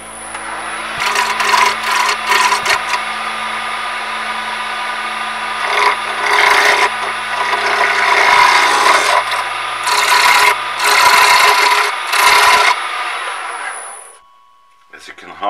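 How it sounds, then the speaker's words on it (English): A sharp 10mm spindle gouge cuts wood spinning on a lathe at high speed while shaping an ice scoop. It makes a loud, continuous rasping hiss that swells and breaks off in bursts, then stops near the end. "This is my sharp 10mm spindle gouge. Again, using high speed on that."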